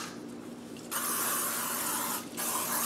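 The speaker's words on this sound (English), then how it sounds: "generously spray with no stick spray." A Crisco non-stick cooking spray can hisses onto a pan in a long steady burst, pauses briefly, then sprays again, close and fairly loud.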